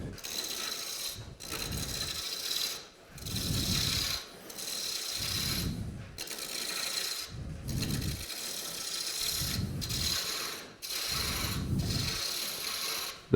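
Roughing gouge cutting wood on a foot-powered treadle lathe, rhythmic rasping bursts that swell and fade with each pedal stroke alongside a mechanical clatter, loud and close.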